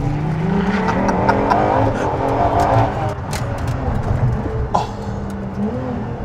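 A Ferrari LaFerrari hybrid supercar with 950+ bhp accelerating hard, its engine note rising and surging loudly up close, with a brief exclamation from someone inside near the start.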